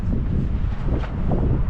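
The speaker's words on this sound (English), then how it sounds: "We got the wind blowing about 20 to 25 in gusts right now" Strong gusting wind buffets the microphone at night in the Grand Canyon, a steady low roaring rumble throughout with no voices.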